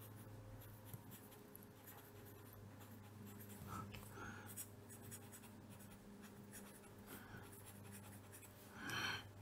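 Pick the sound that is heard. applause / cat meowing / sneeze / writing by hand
writing by hand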